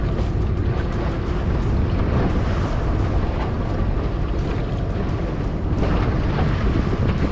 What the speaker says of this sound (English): Pick up the pace a little on the motor.